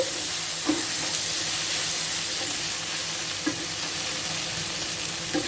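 White brinjal curry being stirred in a pan over high-to-medium flame, a steady loud sizzle and frying hiss running throughout, with occasional soft scrapes of the spoon against the pan.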